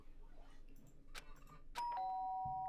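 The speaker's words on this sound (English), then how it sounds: "did I hear the doorbell?" A video game doorbell sounds a clear two-tone ding-dong, bright and sustained, after a quiet stretch with faint background noise.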